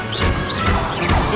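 Levioso spell cast during a duel in Hogwarts Legacy, a loud magical whooshing crash with swirling sweeps through its short span.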